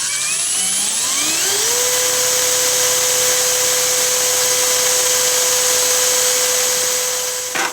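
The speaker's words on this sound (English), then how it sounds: "And now I gently want to drill the head off." A close, loud power drill whines as it spins up, then holds a steady high-pitched tone while a steel bit drills off a bolt head on a Bosch alternator, with no voices.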